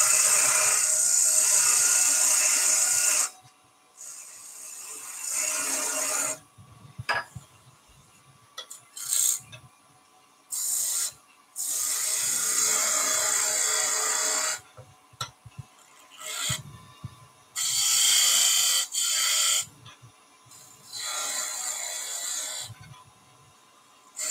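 Tulip wood on a lathe being sanded while it turns, a dry raspy rubbing that comes in long sustained passes broken by short pauses, close and fairly loud, with no talking.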